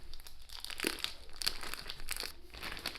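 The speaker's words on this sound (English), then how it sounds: "We're gonna pull the whole tenderloin all the way out, keeping as much of this liquid in the bag as possible." A whole beef tenderloin is pulled from a plastic bag, giving close crinkling and rustling plastic sounds in irregular bursts, with no voices.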